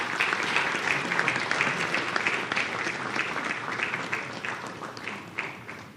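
Sustained audience applause fills a hall at a national forum on affordable housing as the keynote speaker, a government minister, is welcomed; steady dense clapping stays loud throughout and tapers slightly at the end.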